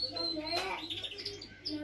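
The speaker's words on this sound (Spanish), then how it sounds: "como veis, mi canario vuelve a cantar" A pet canary sings indoors, bright warbling chirps and trills rising and falling over under two seconds, faint in the room with a voice partly overlapping.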